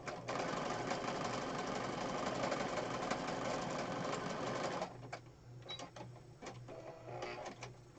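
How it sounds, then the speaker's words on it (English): A sewing machine stitches two pieces of a junk journal, running in a loud steady whir for about five seconds before stopping, followed by scattered clicks and handling noises. "We're gonna sew on these 2 pieces."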